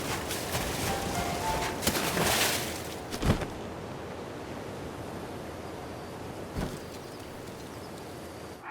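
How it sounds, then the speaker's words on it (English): In Zelda: Breath of the Wild, the player character swims up waterfalls, heard as steady rushing water with a couple of sharp splashy bursts along the way, moderately loud and without speech. "By wearing this armor, I can swim up waterfalls."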